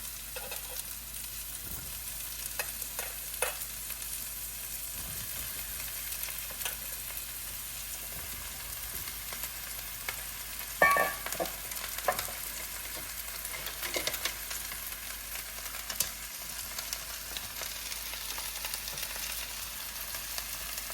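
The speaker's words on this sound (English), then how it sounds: "my pan is pretty warm, so I'm going to just put the mushrooms in there" Mushrooms go into a warm pan with olive oil and fry with a quiet, steady sizzle, punctuated by occasional soft clicks and stirring knocks from the pan.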